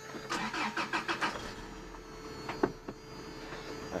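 A car engine cranks with a rapid run of rhythmic starter pulses, then catches with a couple of sharper bursts and settles into a low idle, fairly close and alone without talk.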